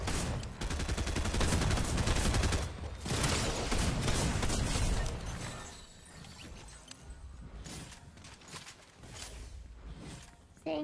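Rapid video game gunfire as players shoot down a bot, dense bursts of shots that fill the first half, then thin out into scattered clicks and clatter, with faint voices underneath.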